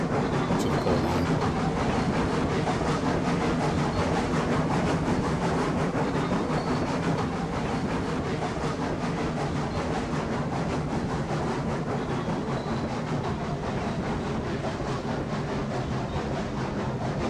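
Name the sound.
long train running on track in video game Railroads Online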